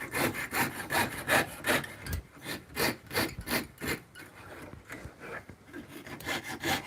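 Metal is cut by hand with steady back-and-forth sawing strokes, a rhythmic rasping about two strokes a second, close and fairly quiet with a short pause midway.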